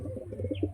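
Fancy pigeons in their coop coo softly, a few low, close burbling calls in quick succession with a faint brief chirp over a steady background hum.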